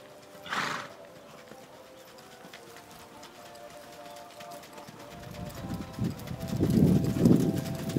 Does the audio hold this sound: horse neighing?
yes